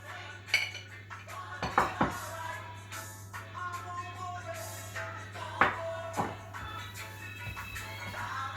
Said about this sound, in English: Alright, so we're going to put our rice in the middle of the bowl.